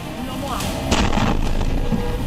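Missile explosion in Ashdod, Israel, a sharp heavy blast nearly one second in followed by rumbling, crackling debris noise, with a voice talking over it.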